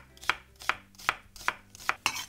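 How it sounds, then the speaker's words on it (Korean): A knife thinly slicing an onion on a cutting board, six crisp evenly spaced strikes in a steady rhythm, close and clear with no talking. "양파는 얇게 써세요."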